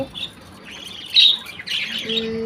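Several pet birds squawk and chirp in short, sharp bursts close by, a busy overlapping chatter with brief quiet gaps.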